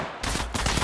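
Gunfire in the mobile video game Apex Legends Mobile: a sharp, loud burst of rapid shots cracks in abruptly and continues densely for under a second.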